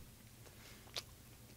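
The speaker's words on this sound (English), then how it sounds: "Just munching on a nice corned beef sandwich." Faint chewing of a corned beef sandwich, soft close-up mouth sounds with one sharper crunchy bite partway through.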